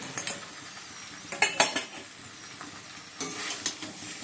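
Cauliflower stirred in a sizzling pan, soft steady frying with three clusters of metallic scrapes and clinks from a spatula against the pan, close and quiet with no voices.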